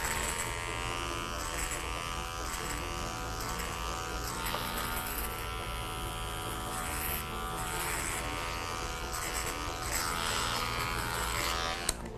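Electric hair clippers cut a woman's hair into a faux-hawk mohawk shape, giving a continuous close buzz that holds steady for about twelve seconds, with a faint tick near the end.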